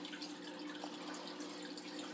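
Water flows steadily through a filter pad in a home aquaponics tank, a faint continuous trickling wash over a low hum, with no voices.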